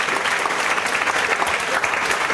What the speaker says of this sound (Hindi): जोरदार तालियां बजाओ।